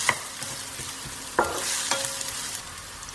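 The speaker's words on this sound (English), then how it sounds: "we're going to saute these onions till they turn translucent" Onions sauté in hot oil in a pan for a chicken masala fry, a soft steady sizzle under a few distinct spoon knocks and scrapes against the pan. The sound is fairly quiet and close, with no talking.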